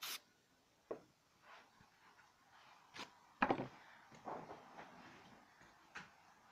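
Soft, faint rubbing and scuffing sounds come from oil being worked by hand into the wooden stock of a Carcano rifle, in irregular strokes with a few sharper brushes and scrapes and no talk.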